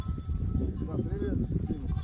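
A flock of sheep in the Nohur mountains, guarded by aboriginal wolfhound dogs, bleats in overlapping calls over a busy outdoor background, with voices murmuring underneath.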